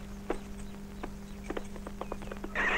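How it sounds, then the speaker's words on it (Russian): A horse named as the finest racer walks at a horse race, its hooves clip-clopping in a steady, uneven series of sharp knocks over a low constant hum, with a brief burst of noise at the end. "Посмотри на Сердара. Лучше лошади нет"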